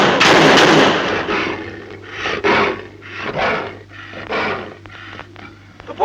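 Gunfire aimed at a creature inside a cavern in a sci-fi alien film, a loud opening burst followed by a string of shorter sharp reports with brief gaps, over a low steady hum.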